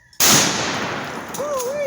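A single loud, close rifle shot from a 1936 Mosin Nagant bolt-action rifle cracks sharply, then rolls into a long echoing boom outdoors, with a faint voice-like tone surfacing near the end.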